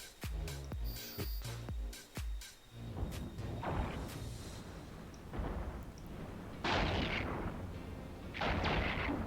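Ship weapons firing in the space video game EVE Online, a run of sharp rhythmic shots at first, then rushing whooshes and explosive bursts swelling toward the end, fairly quiet overall.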